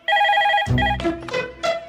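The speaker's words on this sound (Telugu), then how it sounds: "రింగ్ అవుతుందిరా" A landline telephone rings close by in a bright electronic trill, then cuts off as handling clicks and muffled knocks follow.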